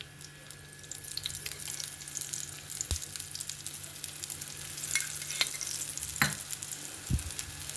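Pesarattu batter fries in a generous layer of oil on a pan, giving a steady, soft sizzle broken by a few sharp clicks and taps, with no talking.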